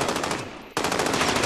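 Rapid automatic gunfire from the Call of Duty Warzone (Modern Warfare) battle royale game, loud and continuous bursts filling the clip with a brief gap near the middle before the firing resumes.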